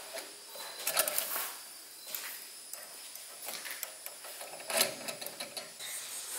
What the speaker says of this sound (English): tree limbs on top of the shed. Scratching the shed.